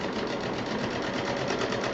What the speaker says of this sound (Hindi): और यहाँ पर अब हमें 2-3 मशीन चलानी होगी।